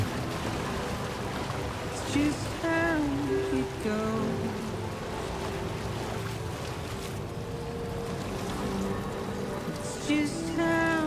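Steady timefall rain pours down in the game Death Stranding 2, a dense continuous patter and wash that persists throughout while a voice speaks briefly a couple of times over it.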